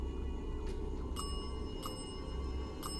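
A small bell rings a few times during a paranormal investigation at an old graveyard in India, with three or four brief bright rings, fairly faint, over a steady background hiss.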